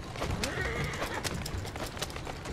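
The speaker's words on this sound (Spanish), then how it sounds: "Mira el caballo" A horse whinnies close by in the Victorian London streets of Assassin's Creed Syndicate, its neigh loud over steady clip-clop of hooves and background city noise, with no talk over it.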